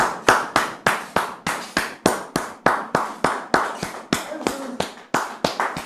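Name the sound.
studio audience applause welcoming a guest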